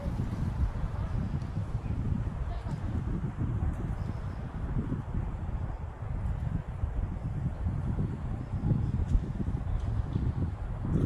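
Strong wind blows at the Koel viewpoint in Netarhat, a steady low rumbling roar buffeting the microphone continuously, with no distinct other sounds standing out.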